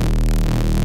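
A neuro bass preset from the ARCANUM series in Phase Plant plays as a loud, thick, sustained bass drone with dense low harmonics and a gritty, buzzing top, held steady with a slight throbbing texture.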